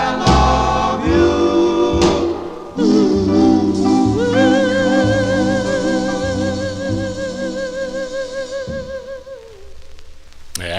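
Rare 1957 doo-wop 45 single on the JNS label, vocal harmony group singing over slow backing, steady and full volume with held sung notes.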